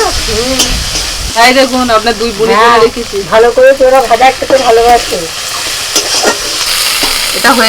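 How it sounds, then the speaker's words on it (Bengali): Boiled cabbage leaves stirred with fried onion in a hot pan, sizzling loudly with stirring scrapes while a melodic, singing-like voice carries over much of it. "এবার দিয়ে দিলাম কপি পাতাগুলো মানে সিদ্ধ করা কপি পাতা এবার একটু নাড়াচাড়া করে নেব"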